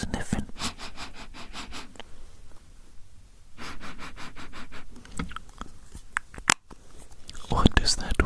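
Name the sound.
sniffing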